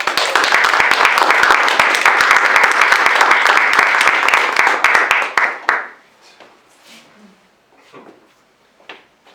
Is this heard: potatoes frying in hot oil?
no